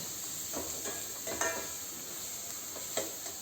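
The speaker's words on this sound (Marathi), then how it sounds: "थोडासा ट्रान्सपरंट होईपर्यंत फ्राय करायचा आहे" Onion fries in a pan for an okra dish, giving a steady close hiss of sizzling with a few brief spatula scrapes. Nobody speaks.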